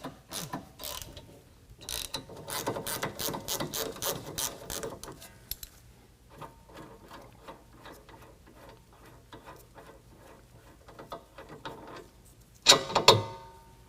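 Rapid ratchet wrench clicking while an 18mm sway bar nut is loosened on a 2022 Ford Maverick, bursts of fast ticks for several seconds, then slower clicks and a sharp metallic clank near the end.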